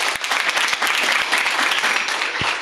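Audience at an African BioGenome Project regional workshop breaks into applause, a dense, steady burst of many hands clapping together, moderately loud and sustained for a few seconds.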